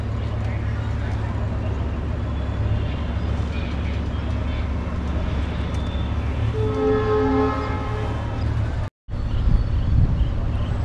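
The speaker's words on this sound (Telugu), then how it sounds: "ట్రైన్ రివర్స్ అవుతుంది ప్రజెంట్." A train moves slowly near Guntur railway station with a continuous low rumble and wheel rattle, and a sustained horn sounds midway, while someone talks over it.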